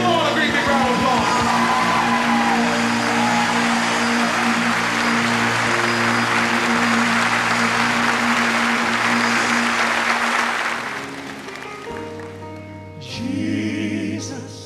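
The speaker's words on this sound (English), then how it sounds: "Give them all a great big round of applause." An audience at a southern gospel singing event applauds the performers, with steady, full clapping that carries on for about ten seconds and then thins out, ending under quieter room sound and a brief tonal note.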